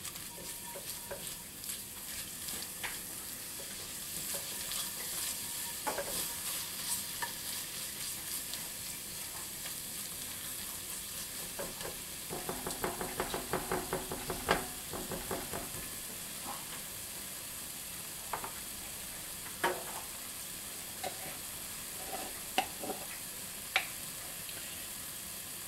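A spoon stirs cornstarch into a cheesy scalloped potato sauce with a steady run of scraping and clicking strokes. It sounds close and moderately loud, with a busier burst of stirring midway and no voices.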